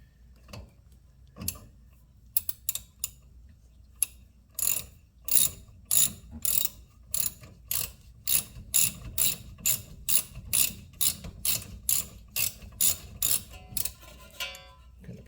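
A wrench ratchets as it tightens rear brake bolts on a 2012 Ford Focus, at first a few scattered clicks, then a long run of sharp, rhythmic ratcheting strokes, close and crisp.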